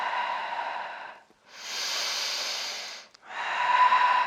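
A person exhales in long, breathy hisses while holding the downward dog yoga pose: two sustained exhales, then a third, each separated by short silent pauses and close to the listener.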